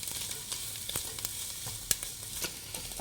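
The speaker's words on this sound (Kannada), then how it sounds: "ಚೆನ್ನಾಗಿ ಫ್ರೈ ಮಾಡಿ ಈರುಳ್ಳಿನ." Onions sizzle and crackle in a hot pan for egg noodles, a steady close frying hiss with scattered sharp pops and the occasional scrape of stirring, no voices.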